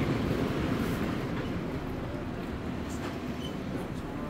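Steady rumble of a Seoul metro train while riding inside the carriage, with a dense low roar and faint clicking of wheels on track, continuous and loud throughout, with no talk.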